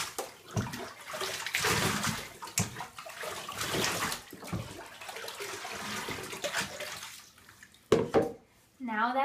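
Water runs and splashes steadily while a Shorkie dog is bathed in a tub, a close, hissing rush that shifts as the stream is moved around and stops near the end, with someone talking over it.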